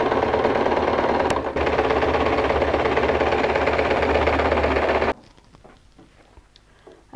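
A sewing machine stitches denim for a lined jeans bag, a steady whirring drone running loud and continuous for about five seconds before it abruptly stops, leaving quiet room sound.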